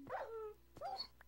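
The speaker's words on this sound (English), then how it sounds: "our dogs are fighting now" Dogs in Minecraft yip and whine in two short bursts, faint and thin, with a brief click between them.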